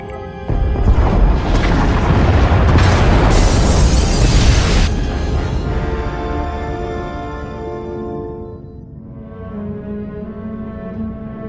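Pod bays blown apart in Star Wars: The Old Republic, a loud sustained roaring explosion rising suddenly and fading over several seconds into a ringing tonal hum.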